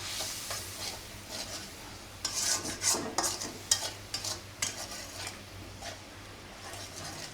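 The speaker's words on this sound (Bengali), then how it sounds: "এখন মশলাটা কষিয়ে নিয়ে তরকারি দিয়ে দেবো" A spice paste with green chillies is stirred and fried in a pan. Soft, quiet sizzling runs under a cluster of sharper scraping and clinking utensil strokes in the middle.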